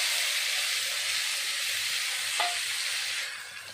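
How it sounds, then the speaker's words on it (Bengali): Ground spice paste sautéed with potatoes in a pan for a khesari dal curry, a steady hissing sizzle with a brief scrape partway through, fading slightly at the end, no speech. "এখন আমি ভালো করে কষিয়ে নেব মশলাগুলো, যাতে মিশে আলুগুলোর সাথে"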